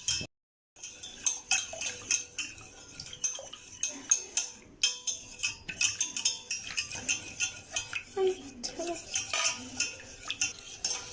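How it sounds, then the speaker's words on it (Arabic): A starch mixture being stirred in a pot on the stove for a chocolate cake, a utensil scraping and clinking against the pot in a steady irregular rhythm, close and fairly quiet, with no talking. "ما نوقفوش على التحراك وغادي نتسناوها حتى تعقد لينا"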